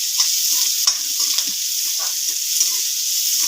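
Onions being briefly fried and stirred in a pan for homemade upma give a steady, bright sizzle, with soft scraping and stirring clatter that keeps breaking through.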